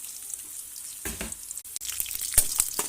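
Peanuts hit hot oil for pulihora and set off a rising sizzle. A few clinks and stirring sounds come through the frying, with no talking.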